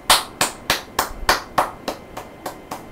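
Steady, evenly spaced hand claps, about ten in three seconds, close and crisp, for the actor who plays Jerome; a single clapper with no talk.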